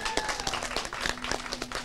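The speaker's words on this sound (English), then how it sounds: "let's a big round of applause for that." Audience applause at a business event in East Brunswick, a dense, steady patter of many hands clapping at moderate loudness through the whole stretch, with no talking over it.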